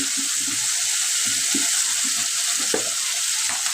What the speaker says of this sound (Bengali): এখানে দিয়ে দিয়ে দিলাম আদা বাটা পেঁয়াজ বাটা রসুন বাটা ভালো করে কষে নিতে হবে